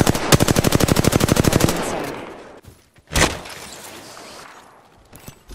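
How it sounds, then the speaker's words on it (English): Automatic weapon fire from the Apex Legends video game: a loud, rapid burst of evenly spaced shots for under two seconds, then a lone heavy blast and a few scattered, fainter impacts. "Taking fire."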